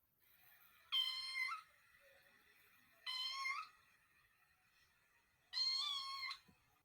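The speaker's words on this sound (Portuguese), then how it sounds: "A resposta certa é um gatinho!" A cat meows three times, each call drawn out and clearly separated by short pauses, close and distinct with no talking over it.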